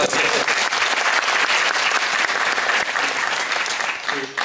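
An audience at an agricultural policy forum's talk concert with local government heads claps steadily and loudly, dense applause that fills the hall before tapering off near the end.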